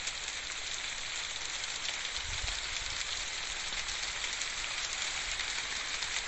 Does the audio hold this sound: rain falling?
yes